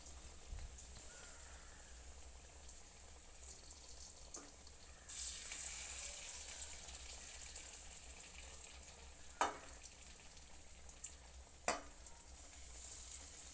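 Banana fritters (pazham pori) fry in hot oil, giving a steady, close sizzle throughout that swells partway through. A few sharp pops and taps break through, and there is no talk.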